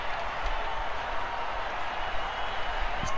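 A wrestling arena crowd from the video game WWE 2K20 roars in a steady, dense wash of cheering that holds for the whole stretch, loud and unbroken with no single voices standing out.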